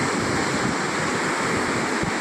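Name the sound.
sea water near Alang shipbreaking yard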